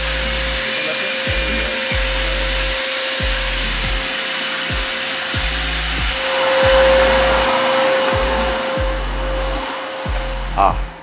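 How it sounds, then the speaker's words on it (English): A CNC machine cutting ant nests, a loud whining router spindle over a rhythmic low thumping as the head moves in regular passes, steady and close, with voices talking over it. "So here we have CNC cutting. So here we are cutting all the cordless."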